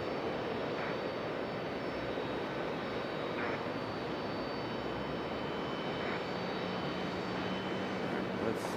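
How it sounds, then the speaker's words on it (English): Airbus A220 airliner at Raleigh-Durham International, a steady broadband jet roar holding at a constant loud level throughout with no talking. "I'm gonna stay with the A220 for a minute."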